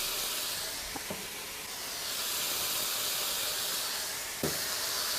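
Chopped garlic tipped into mince cooking in a pan, with a steady broadband sizzle and hiss throughout and a few brief clatters as it goes in.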